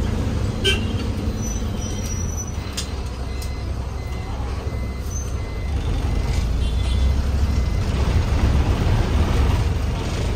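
A KSRTC Swift Deluxe bus on the daily Kannur to Madurai service runs with a steady, loud engine drone and road rumble throughout, with a couple of brief high horn-like tones early on.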